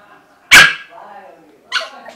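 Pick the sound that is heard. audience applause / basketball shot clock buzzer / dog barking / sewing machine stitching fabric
dog barking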